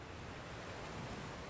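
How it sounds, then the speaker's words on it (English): Waves from Dragon Quest Builders 2 wash onto the shore in a soft, continuous surf with a faint windy hiss, low and steady with no distinct crash. "A wave breaks on shore and washes the body out to sea."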